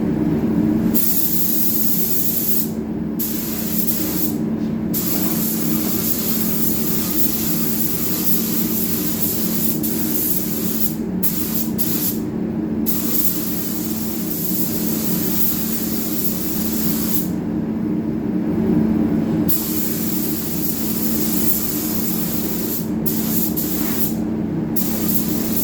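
A spray gun coats a raw plastic new car bumper in repeated hissing bursts of varying length, separated by short pauses, with a continuous steady background hum underneath.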